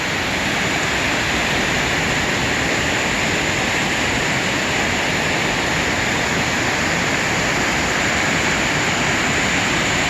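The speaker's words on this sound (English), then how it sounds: "This waterfall cuts down and actually separates the Canadian Shield" A Quebec waterfall cutting through the edge of the Canadian Shield gives off a loud, constant broadband roar that holds without a break, close and alone with no voices.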